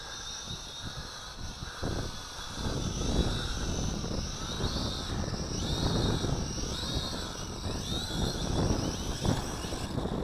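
A cheap SY X33-1 altitude-hold folding drone descends to land on a pad, its spinning propellers giving a steady, fairly close buzzing whir that rises and falls slightly as the throttle comes down.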